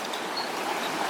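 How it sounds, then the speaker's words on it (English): Water flowing in a jungle stream near a waterfall, a steady broadband rushing wash that stays even throughout, fairly close and alone without talk. "you can hear the voice of the water"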